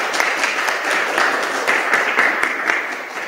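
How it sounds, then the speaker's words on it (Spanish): A crowd at a women's history seminar applauds with steady, dense clapping that holds at an even level before tapering slightly toward the end. "Un aplauso, por favor."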